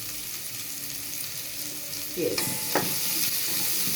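Salted onions sizzle steadily in a frying pan, and a spoon scrapes and knocks against the pan about halfway through. A voice speaks faintly in the background.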